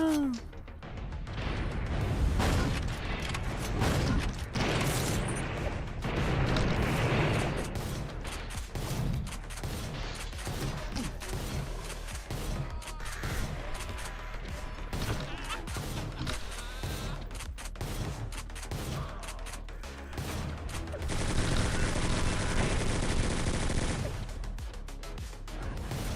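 Rapid gunfire in a first-person video game, a dense barrage of loud repeated shots over game music with a sustained burst near the end; no talk.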